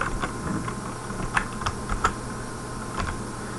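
Fingers tap out C code on a computer keyboard in quick, uneven keystrokes with a few louder clacks, close up over a faint steady room hum.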